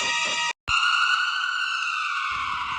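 A steady electronic ambulance siren wails continuously, loud and fairly close, briefly cut off near the start before resuming.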